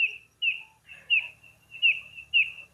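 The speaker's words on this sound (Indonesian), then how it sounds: "ini suara burung ini benar-benar." A bird calls at night from a banyan tree, repeating a series of short, high whistled chirps at a steady rhythm, clear and fairly close against a quiet background.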